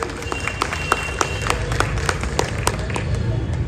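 Scattered clapping from an audience at a political gathering in Dwarka, Delhi, light and uneven with individual sharp claps over a murmuring crowd.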